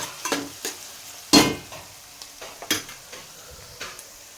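Onion pieces frying in a pan, stirred with a few sharp scraping strokes and soft clinks amid a light sizzle, close and fairly loud.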